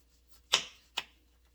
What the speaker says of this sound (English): I'm going to cut this in 2.